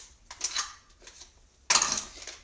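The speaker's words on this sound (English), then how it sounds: "These are our kitchen shears." Kitchen shears snipping open taco seasoning packets, with a few sharp close crinkly cuts and paper rustles followed by a louder tearing snip near the end.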